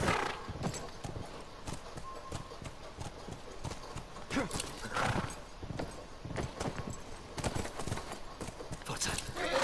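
Horses' hooves clip-clop steadily in The Last of Us Remastered, the rhythmic clatter close and clear, with a brief whinny and faint talk mixed in over an outdoor game backdrop.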